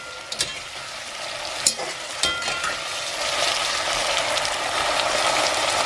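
Washed, diced Irish potatoes are stirred with peri peri style vegan mince in a hot pan, giving a steady close sizzle with scattered scraping clicks that grows slightly louder. No one speaks.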